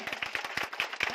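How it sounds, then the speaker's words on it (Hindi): Audience clapping at a Sunday seminar in Bisahi, a brief burst of hand claps in uneven rhythm, fairly close and moderately loud. "मैडम के लिए जोरदार तालियां"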